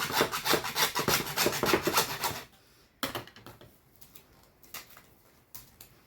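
A handsaw cuts through a wooden side piece resting across a knee, giving a fast, loud run of rasping back-and-forth strokes for about two seconds, followed by a few scattered, quieter scrapes and knocks.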